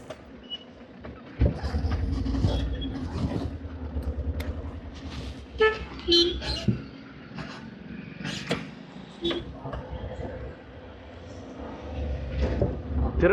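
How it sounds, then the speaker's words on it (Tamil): A vehicle horn sounds in several short honks amid traffic around a Tata AC Porter load carrier during a U-turn, with bursts of other road noise and some voices nearby. "திருப்புறம் தெரிஞ்சே வந்து ஹார்ன் அடிச்சுக்கிட்டே இருக்காங்க."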